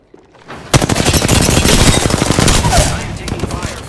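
Sustained automatic gunfire in the battle royale game Apex Legends, a loud, dense, rapid burst that runs almost continuously for several seconds.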